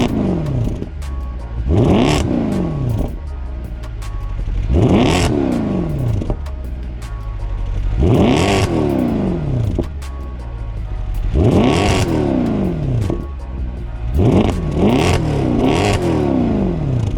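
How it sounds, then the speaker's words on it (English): A Mercedes E63 AMG with its factory exhaust revs hard in several loud, close bursts, each rising and falling, with quicker blips packed together near the end and no talking. "this car on the other hand comes from the factory with a pretty decent exhaust note"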